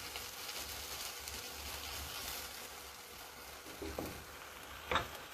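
Taro (arum) hits onions already frying in a pan, giving a soft steady sizzle with a few brief clatters of stirring toward the end, fairly quiet and with no talking.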